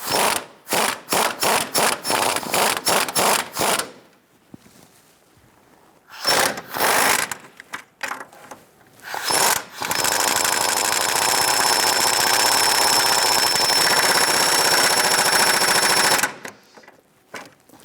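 Ratcheting and impact-driven tightening of engine mount bolts on a 1999-2004 Jeep Grand Cherokee 4.7L V8, with a rapid series of close, sharp clicks, a pause, short bursts, then a long steady whirring run before stopping.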